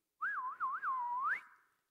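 A person whistles a short, shrill tune in imitation of a very loud whistle: a quick warbling run of rising and falling notes, then a long upward swoop that fades out, heard alone.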